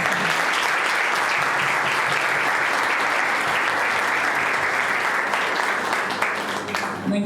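Sustained audience applause closing a panel debate at an HR breakfast event in Mozambique, loud and even throughout, tapering slightly at the end.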